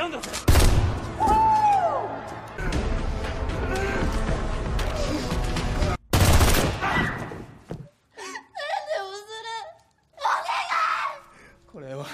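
Gunfire from militants in a Japanese action film comes as loud bursts of shots and crashes mixed with screaming, then gives way to a person speaking in short phrases between pauses.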